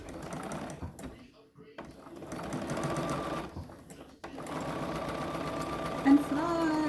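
Close sewing machine stitching a pillowcase seam and backstitching, a rapid mechanical chatter that starts and stops in short runs with brief pauses, with someone talking over it.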